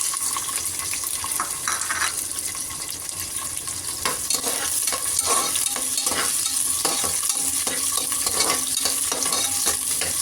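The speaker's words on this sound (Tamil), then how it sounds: "நல்லா வதக்கணும்." Steady sizzling of small onions frying in a pan with whole spices, with repeated scraping stir strokes throughout, close and fairly loud.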